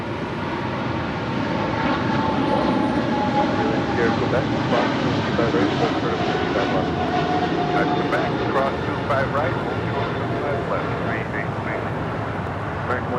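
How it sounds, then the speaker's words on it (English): An American Airlines Boeing 777-300ER rolls down runway 25 right at LAX for a London departure, a broad, steady engine roar and rumble sustained throughout with a commentator talking over it. "American Airlines Flight 136. It's a 777-300ER heading to London,"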